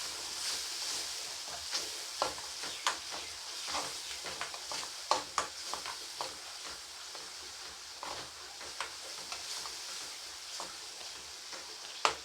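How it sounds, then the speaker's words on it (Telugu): Spices and turmeric stir-fried in a pan for a leftover chapati snack give a continuous soft sizzle, broken by frequent light scrapes and taps of a spoon against the pan, close and steady with no talking. "అలానే పసుపు వేసుకొని కొద్దిసేపు ఫ్రై చేయండి బాగా."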